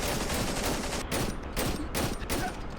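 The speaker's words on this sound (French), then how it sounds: "il a sorti une mitraillette" Submachine gun fire in the horror game Cry of Fear, a dense, continuous rattle of shots in several quick bursts separated by tiny pauses, fairly loud against a muddy background.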